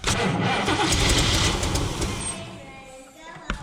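A Chevrolet El Camino engine cranks over, the starter churning loudly and steadily for a few seconds before it tails off. A short knock follows at the end.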